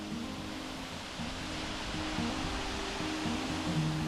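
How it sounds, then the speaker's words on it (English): A waterfall on Whernside, in the Yorkshire Dales, rushes in a steady broadband roar, moderately distant and continuous, with a faint low tonal hum running underneath and no speech. "any walk with a waterfall like that to me is not boring"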